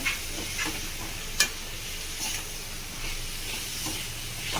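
Tomatoes being mixed into a bitter gourd stir-fry, a soft steady sizzle with occasional light spatula scrapes and one sharp clink against the pan.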